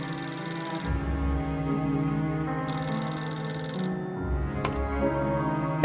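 A telephone rings continuously in the video game Beholder 2, a steady electronic trilling ring repeating in bursts over a sustained low hum, loud and alone without voices.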